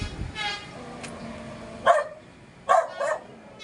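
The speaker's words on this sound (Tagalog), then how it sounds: "mayroon pala dito aso" A dog barks a few times at a moderate distance, short sharp yelps in two bursts over a quiet outdoor background.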